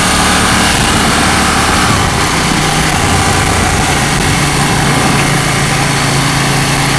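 The parallel twin engine of a KTM 790 motorcycle runs steadily nearby, giving a loud, continuous throbbing drone with rough mechanical texture and wind noise and no talking.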